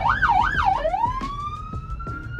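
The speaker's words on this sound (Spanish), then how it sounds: "va una ambulancia por ahí." A passing ambulance siren wails loudly, first in a fast warbling sweep and then shifting to a long steady rising tone, heard outdoors over traffic rumble.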